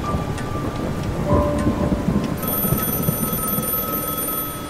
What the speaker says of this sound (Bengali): বজ্রের গর্জন আর বৃষ্টির পতন।